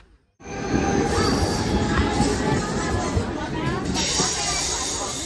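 A Khopoli passenger train rumbles steadily close by near Palasdari, a broad continuous roar of wheels on rails with occasional metallic squeals, with people talking over it.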